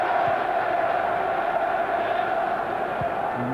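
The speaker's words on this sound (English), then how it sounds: "one man the Highbury crowd have taken to in a big way is Patrick Vieira. They're chanting his name, they're willing him a goal." At a 1996 Premiership match at Highbury, Arsenal against Sheffield Wednesday, the football crowd chants a player's name, a steady, massed roar of voices that holds throughout at a distance.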